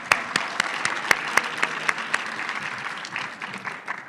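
An audience at a conference closing session applauds, with a few sharp distinct claps standing out over a dense patter that gradually fades.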